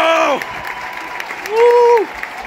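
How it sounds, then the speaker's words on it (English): A baseball stadium crowd at a Blue Jays vs Braves game gives a standing ovation, a broad roar of clapping and cheering behind two loud, close whooping shouts from nearby fans. "That ovation."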